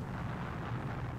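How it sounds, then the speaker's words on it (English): A bomb blast in a 1971 Kamen Rider action film rumbles as a dense, sustained low roar with broadband noise, loud and steady for the whole moment with no speech over it. "that's a full-on bomb"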